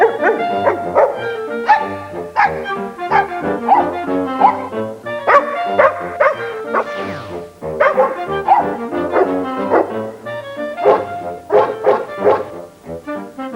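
Dogs bark repeatedly in a dog food television advert, a busy run of loud, overlapping barks and yips with a few whimpers, close and continuous, with no talking during the barking.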